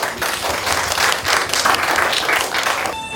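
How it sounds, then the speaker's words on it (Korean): A crowd at a book launch event applauds steadily for a harmonica performance, dense clapping filling the whole stretch at a fairly loud, even level. "여러분, 큰 박수 주세요"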